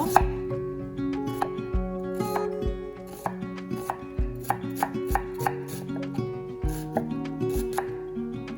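A knife chops repeatedly on a board in a steady run of sharp, close taps, prepping green onion and garlic for a perilla leaf kimchi seasoning, with background music playing underneath.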